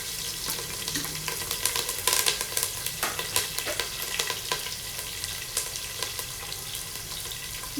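Chana dal, cumin, garlic, onion and curry leaves sizzle in hot oil as a tempering fries in a pan, a soft steady crackle broken by louder spattering pops and occasional stirring scrapes, close and fairly quiet.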